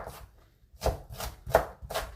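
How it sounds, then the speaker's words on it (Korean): A knife julienning thin egg garnish on a cutting board makes four or five soft, evenly spaced chopping taps up close, with no talking. "자, 이렇게 해서 채를 썰어 주시고"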